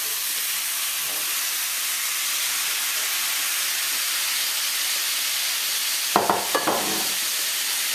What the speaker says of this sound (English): So in now, we're gonna add all that cubed up pumpkin.